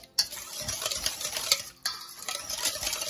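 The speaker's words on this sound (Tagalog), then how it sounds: "Haluin pong maigi hanggang matunaw po yung mga asukal niya." Pork tocino marinade with sugar and salt stirred steadily in a bowl, a continuous close scraping swish with a few louder knocks of the utensil against the side.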